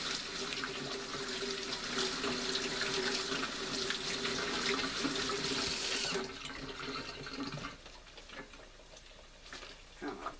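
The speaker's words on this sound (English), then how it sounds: "Wash my hands a little bit." Hands are washed under a running kitchen tap, a steady rushing stream of water that runs for about six seconds, then cuts to quieter dripping and rinsing with small clatters.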